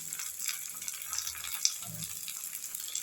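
Onions, coriander leaves and curry leaves sauté in hot oil with a steady, close hiss. The sizzle runs evenly throughout, with a faint stir or clink about midway, and nobody speaks.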